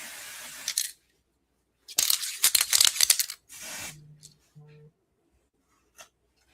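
Hair spray from an aerosol can, several short hissing bursts close to the mic, a brief one first, then a longer clustered spray, followed by quieter clicks and small tones.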